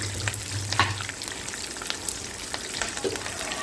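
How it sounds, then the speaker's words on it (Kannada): Finely chopped onions frying in oil with mustard seeds, cumin and curry leaves for a beans stir-fry, a continuous sizzle broken by occasional spoon scrapes and light stirring taps. "ಈರುಳ್ಳಿ ಈಗ ಚೆನ್ನಾಗಿ ಫ್ರೈ ಆಗಬೇಕು"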